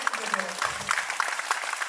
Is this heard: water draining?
no